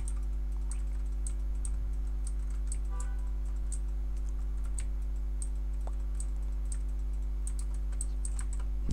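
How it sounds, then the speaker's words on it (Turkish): Rapid clicky keystrokes on a mechanical keyboard while playing Roblox Bee Swarm Simulator patter in uneven bursts over a constant low electrical hum, with no voices present. "mekanik klavyeden ses geliyorsa da kusura bakmayın"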